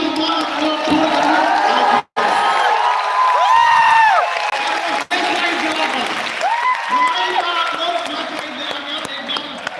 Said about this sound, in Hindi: तो एक बार खड़े होकर इन लोगों के लिए भी ताली बजाएंगे